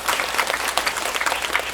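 An audience at a film talk event in a cinema hall applauds, producing a dense, continuous burst of many hands clapping throughout.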